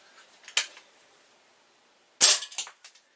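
A Stoeger A30 .177 combo carbine air rifle fires 7.4 lead pellets: two sharp, close snaps about a second and a half apart, each followed by short metallic clatter.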